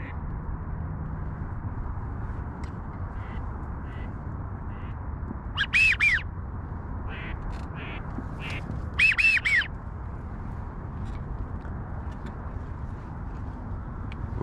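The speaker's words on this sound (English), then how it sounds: "Ball of birds, guys. Big ball coming right at us." A flock of ducks squawks overhead during an afternoon hunt from a boat in Southern California, two short bursts of loud calls standing out over steady outdoor background noise, with a few fainter calls scattered between.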